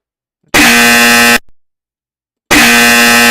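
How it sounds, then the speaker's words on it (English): A loud harsh buzzer, the classic incorrect-answer sound effect, blares twice in a row, each burst a steady droning tone about a second long, separated by a short silence. "I'm just playing the extremely loud incorrect buzzer sound effect"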